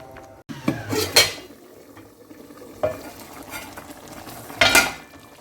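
Creamy chicken tikka karahi stirred in a pan, with a spoon scraping and clinking against the metal in several distinct bursts over a soft background sizzle. No voices are heard.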